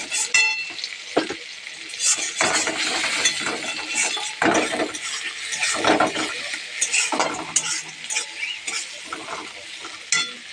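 Onions fry in oil in a pan with a loud, close sizzle, interrupted by repeated stirring scrapes and light clinks of a utensil against the metal.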